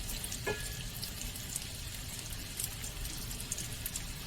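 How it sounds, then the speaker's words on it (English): Mushrooms frying in oil and butter in a pan, a steady soft sizzle and crackle running evenly throughout at low, close level, with a brief clink near the start and no talking. "So you just want to let those cook down, kind of make sure they're all coated in the oil and butter."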